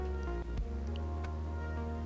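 Rain falling in the post-apocalyptic city-builder game Endzone 2, a steady soft patter over a low droning hum and faint tonal game sounds, with no talking.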